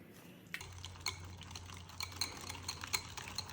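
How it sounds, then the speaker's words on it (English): Garlic being mashed and mixed into bone marrow butter in a bowl, soft scraping and stirring with small utensil clicks repeating close up at a low level, no voices. "Make sure to really mash up that garlic."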